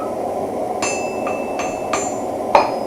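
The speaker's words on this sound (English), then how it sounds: "Now I'm basically going to be peening everything out and around to where they'll fit and work" A hammer peens metal at a forge with about five sharp, ringing strikes, spaced unevenly and close by, over a steady roar of background noise.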